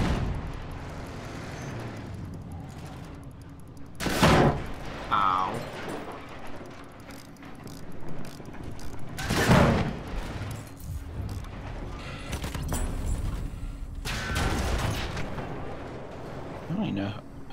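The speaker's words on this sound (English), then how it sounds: "it's the turret on top of the mountain that's shooting you" Turret gunfire from a mountaintop in the war game Battlefield 1 lands as three loud, sharp blasts spaced several seconds apart. Duller rumbling and mechanical battle noise fill the gaps, and a voice talks over it.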